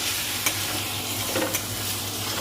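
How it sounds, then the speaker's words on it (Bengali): Whole spices with garlic-ginger paste, salt and turmeric frying in oil in a pan, a loud close steady sizzle with a few scraping stirs from a spoon. "আগে সমস্ত মশলাগুলো হালকা আছে ভেজে নিচ্ছি"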